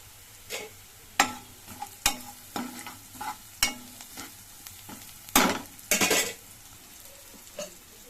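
Onions frying in a pan for a bottle gourd buttermilk curry, with a utensil stirring and scraping in separated strokes over a low sizzle and a couple of louder clattering bursts midway, close by, no talking.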